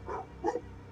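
Dogs in Project Zomboid barking, two short muffled barks about a third of a second apart, moderately loud against a quiet background.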